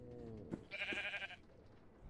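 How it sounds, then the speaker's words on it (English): Sheep bleat in a video game: a single wavering, nasal bleat rises over a quieter game background, lasting under a second near the middle of the short clip. "sheep have appeared"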